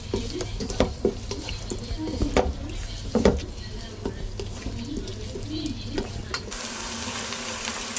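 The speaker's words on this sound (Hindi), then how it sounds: "प्याज को मैंने सोते कर लेना है।" Chopped medium onions sautéing in a pan for an aloo gobi chicken dish, with a steady low sizzle and occasional stirring scrapes throughout, the frying holding fairly even and close.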